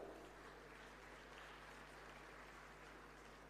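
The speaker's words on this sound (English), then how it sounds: "Let's give them a round of applause." Soft, steady applause for delegates at an East African petroleum conference and exhibition, a sustained patter of clapping heard faint and distant throughout.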